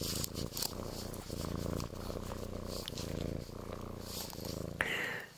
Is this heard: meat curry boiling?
no